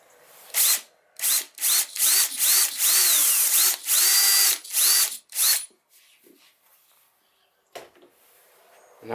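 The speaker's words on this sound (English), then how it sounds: "Now I'll drill this small hole" A power drill boring a small hole in a wooden bowl blank at the centre point, a run of repeated short whirring bursts rising and falling in pitch, close and loud, then a quiet pause with a faint click.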